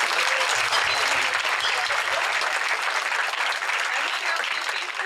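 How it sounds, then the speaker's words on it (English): Sustained applause from a crowd at a dinner event, clapping for the cooks and staff, dense and loud throughout before slowly thinning toward the end. "let's just take a moment and give a round of applause for the cooks and the staff"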